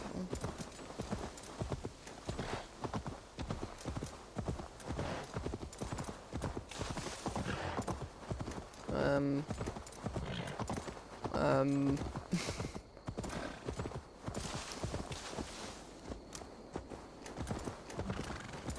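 A horse gallops in Assassin's Creed Valhalla, its hooves beating a steady, fast clip-clop throughout, with a couple of neighs partway through and talking over the hoofbeats.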